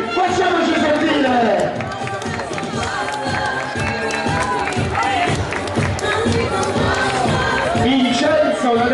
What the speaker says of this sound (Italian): facciamo sentire l'applauso del Napoli, facciamoci sentire